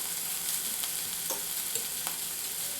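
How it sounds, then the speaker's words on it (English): Rosemary frying in a pan, giving a steady hiss of sizzling oil with faint crackles and a few soft stirring sounds, close and even throughout. "So, this is nice and sizzly."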